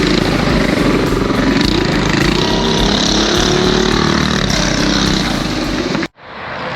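A boonie bike carrying four riders runs a lap on a track at a Harley-Davidson 120th anniversary rally, its engine droning loud and steady for about six seconds before cutting off abruptly, leaving quieter background noise.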